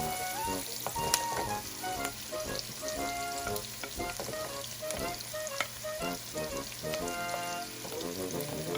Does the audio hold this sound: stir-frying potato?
yes